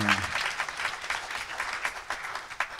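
Church congregation applauding to praise a choir, a sustained burst of many hands clapping, fairly close and steady for the whole stretch with no clear talk over it.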